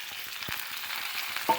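Sliced onions fry in coconut oil in a pan, a soft continuous sizzle broken by a few light scrapes and knocks of the stirring spoon, brief and close.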